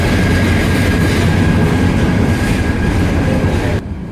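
Loud, continuous rumble of the Haor Express, a Bangladesh Railway intercity train, passing, wheels clattering steadily on the rails close by, dropping off abruptly at the end.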